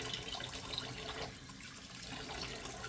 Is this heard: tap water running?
yes